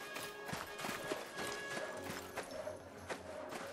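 Horse hooves clatter in a rhythmic clip-clop while riding in a 16th-century Minecraft mod, close and steady, with no talk over them.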